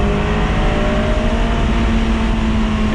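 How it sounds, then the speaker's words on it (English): A 2007 Honda S2000 engine revs freely while driving, a loud steady drone with a sustained tonal whine holding through the whole stretch, close and continuous with no talk. "And that engine just revs so freely"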